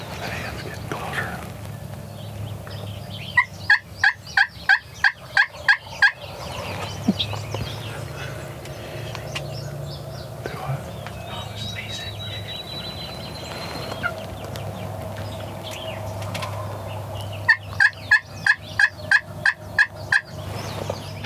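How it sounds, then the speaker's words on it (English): Wild turkeys gobble in two rapid, rattling bursts, fairly close, separated by a long stretch of outdoor ambience. "These birds, Marcus, we must have heard 8 or 9 birds gobbling this morning"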